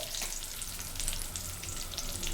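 Curry leaves and tamarind frying in hot oil for a masala akki rotti, giving a dense, steady crackling sizzle close up, loud and continuous with no talking.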